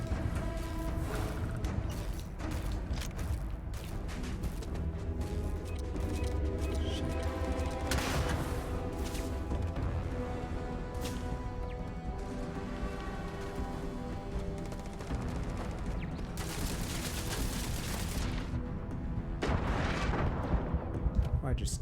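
Grenade blasts and heavy gunfire ripple through a Starfield firefight on very hard difficulty, with loud booming bursts around the eight- and seventeen-second marks over a constant layer of combat noise and game music.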